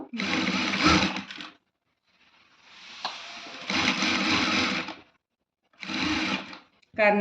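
A sewing machine stitches invisible thread piping onto fabric in three close, loud bursts of rapid mechanical whirring, separated by brief pauses, with a voice speaking in a gap.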